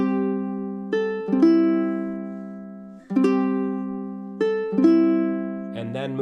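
A ukulele strums a single repeated chord as a gentle introduction in a relaxed jam, each strum ringing out and decaying before the next, with a brief muted scratch near the end; no one speaks.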